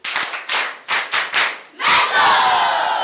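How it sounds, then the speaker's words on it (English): A school maths quiz audience claps and cheers, at first in several distinct loud bursts and then in a sustained wash of applause close by. "Let's give them a big round of applause."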